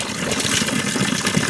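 Water from a mountain spring spout in the Pahadi hills flows in a steady, close, splashing gush, continuous and fairly loud with no talk over it.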